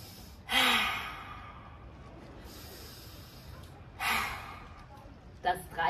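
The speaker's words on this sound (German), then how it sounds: "wir die Zunge rausstrecken und dabei brüllen wie ein Löwe" Forceful lion's breath exhales from a face yoga exercise, tongue stuck out with a roaring push of air: two loud breathy bursts a few seconds apart, then a shorter one near the end, with quiet room between them.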